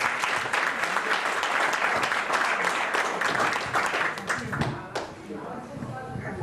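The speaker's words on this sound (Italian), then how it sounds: "Un applauso." Conference audience applause, a dense round of clapping that fades near the end as a voice starts speaking.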